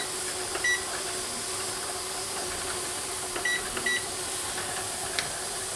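A pressure canner vents a steady, loud broadband hiss of steam throughout, with a few faint beeps in the background.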